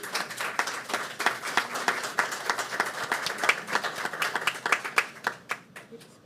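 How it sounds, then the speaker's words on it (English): An audience claps for school principals being honored at a school board meeting, a steady mid-distance round of applause with dense overlapping hand claps that thins out toward the end. "Let's give all of them another round of applause for a job well done."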